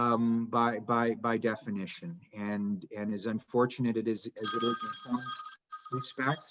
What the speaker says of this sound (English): I'm sorry that my phone keeps going off.